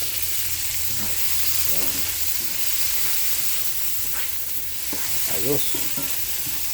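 Onions sizzle steadily in a hot pan while being stirred, the frying hiss running the whole time with a few short spoken words and occasional scraping over it.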